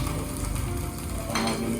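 Garlic sizzles and crackles steadily in hot oil in a pan for chicken adobo, a close, continuous frying hiss with no talk over it.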